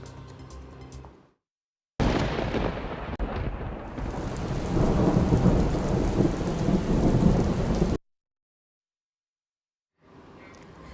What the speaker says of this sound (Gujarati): વલસાડમાં ભારે વરસાદ અને તેના કારણે નદીઓ બે કાંઠે થઈ છે